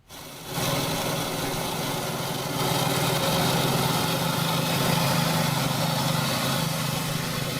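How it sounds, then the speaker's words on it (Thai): An ATV towing a lawn mower runs steadily and loudly throughout, a buzzing mower drone with vehicle rumble, rising slightly in intensity after a few seconds. "การใช้รถ ATV ลากเครื่องตัดหญ้าแบบนี้นะครับ"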